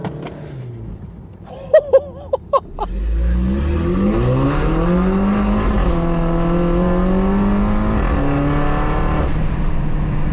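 A track-modified Mini Cooper F56 engine revs up hard, pitch climbing steadily through the gears, loud and close, after a few sharp clicks at the start.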